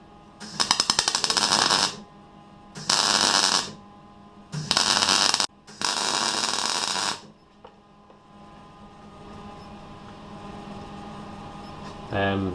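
Welding new metal onto older metal in a classic Mini Mk1 conversion: four loud crackling bursts of a few seconds each with short gaps, then a quiet hum.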